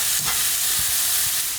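Fallow deer venison sears in a very hot pan with a steady, dense sizzle and hiss, close and fairly loud, running unbroken throughout with no voices.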